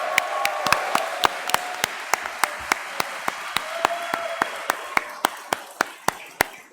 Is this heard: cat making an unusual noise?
no